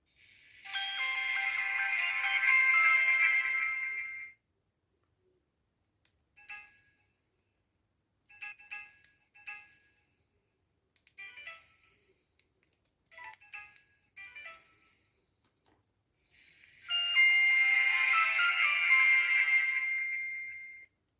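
Startup tones from a Samsung E900 mobile phone on O2: a bright melodic jingle of a few seconds, then a series of short chiming note bursts separated by silences, and finally another sustained jingle, all clear and close with no talking.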